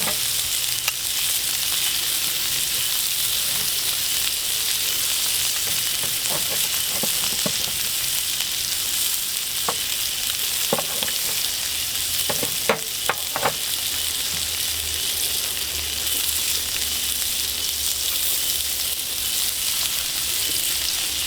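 Steak sizzles loudly and steadily in a pan at a campsite, an unbroken crackling hiss lasting throughout with a few sharper pops and clinks, and no voices.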